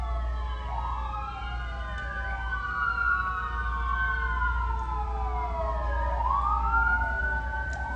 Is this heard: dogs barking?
no